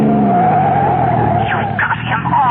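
Car tires skid and squeal in a radio-drama chase as a vehicle is forced off the road, a loud continuous screech with engine roar rising and wavering over about two and a half seconds.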